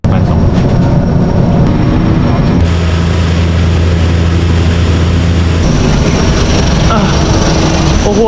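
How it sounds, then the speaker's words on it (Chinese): A small passenger plane flies between stops in Kenya. Inside the cabin, a loud, steady engine drone fills the whole clip, and its tone shifts slightly partway through. "这种小飞机有点像是他们那边比较贵的巴士"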